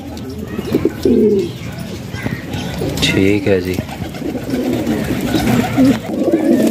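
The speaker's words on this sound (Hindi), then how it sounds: "ये वाला कबूतर मैंने कल शाम उड़ाया था" Fancy pigeon cooing in soft repeated low coos near the microphone, mixed with other bird chirps while someone talks over it.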